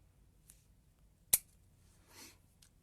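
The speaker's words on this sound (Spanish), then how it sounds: "Una de las ramas de tirasabia la dejamos muy larga y cortamos." A single sharp snip of scissors cuts a juniper branch for an Itoigawa bonsai cutting. It is close and loud against a quiet background, with a softer rustle of handling just after.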